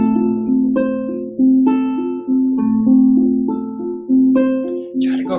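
A classical ukulele plays a full melodic passage, with clear plucked notes ringing sweetly in a steady, unhurried line, close and alone until a faint rustle at the very end.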